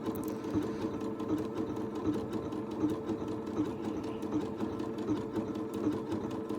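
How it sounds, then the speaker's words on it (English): A sewing machine runs steadily while stitching decorative patterns, a fast rhythmic mechanical whirr and needle clatter, close and continuous with no talking. "You guys want to see some more stitching?"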